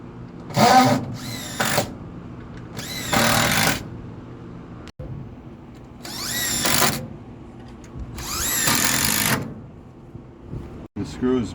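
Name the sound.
power drill driving screws through truss plates into wood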